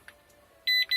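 Short electronic beeps from a home alarm panel in Spain: a brief chirp, then a couple of quick high-pitched tones near the end.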